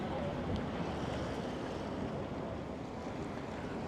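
Steady rushing surf of ocean water splashing against shoreline rocks in San Francisco, mixed with wind buffeting the microphone, continuous and fairly close.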